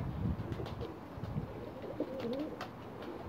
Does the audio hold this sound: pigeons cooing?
yes